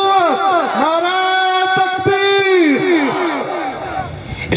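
A large crowd chanting the religious slogan Nara-e-Takbir in unison, loud, rhythmic call-and-response shouts in several long, sustained phrases, close and powerful.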